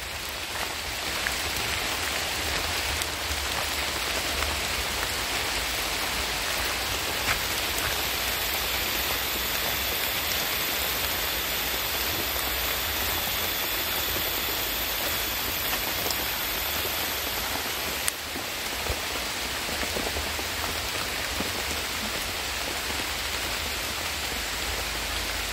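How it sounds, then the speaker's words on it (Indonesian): Steady, dense rain falls throughout in a village setting, a continuous broadband hiss with no pauses and no voices. "Ini hujan, teman-teman, hujan."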